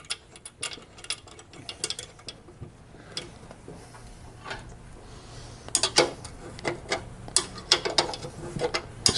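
A wrench ratchets as bolts are tightened on a new front fender being installed on a Harley-Davidson FL, giving close, rapid clicking runs in repeated bursts that grow louder and busier toward the end.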